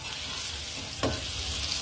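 Garlic stir-fried in oil in a wok, a steady close sizzle with one brief louder scrape of stirring partway through.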